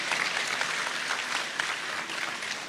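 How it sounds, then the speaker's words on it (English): A crowd at an awards ceremony for Ghanaian art applauds, a broad continuous wash of many hands clapping at moderate distance, steady with no voices above it. "don't be shy, you can applaud"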